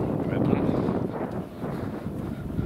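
Cold outdoor wind near a bridge by an abandoned village, about two degrees, buffeting the microphone as a steady low rumbling roar that lasts throughout at a fairly loud level.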